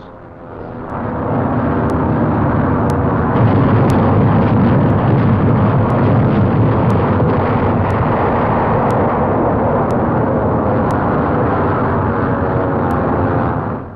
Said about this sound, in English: the merciless pounding of the entire invasion area continues